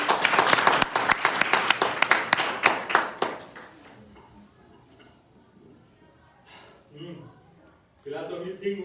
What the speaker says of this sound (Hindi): एक बार पुनः इनके लिए ताली हो।